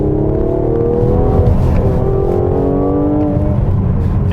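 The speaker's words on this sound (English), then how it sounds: "There's a pop and a kind of a burp that comes out of the exhaust of the Mercedes." Exhaust of a Mercedes-AMG GLC43 SUV, a steady loud engine drone with harmonic tones that waver and shift in pitch, with no distinct pops standing out clearly over the engine note.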